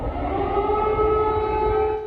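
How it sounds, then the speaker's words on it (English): Air raid siren wailing over Kyiv, a loud sustained droning tone holding steady throughout with a slight fade at the end. "they woke to the sounds of air raid sirens"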